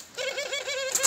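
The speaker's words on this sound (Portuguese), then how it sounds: "Dois machinhos de pombinha burguesa querem formar casal." Barbary doves coo in a soft, rolling series of repeated notes, close and clear with no talk, ending in a couple of brighter higher calls.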